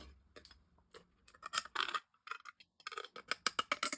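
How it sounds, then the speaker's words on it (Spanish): Scissors cut through the thin metal of a tuna can, giving a series of sharp, close snips and crunches in uneven bursts, growing louder and quicker toward the end. "Cortamos con la tijera."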